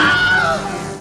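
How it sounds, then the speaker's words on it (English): The Wilhelm scream film sound effect: a single loud, anguished male scream about a second long that falls slightly in pitch and cuts off abruptly. "This is known as the Wilhelm Scream, and it's one of the film industry's longest running inside jokes"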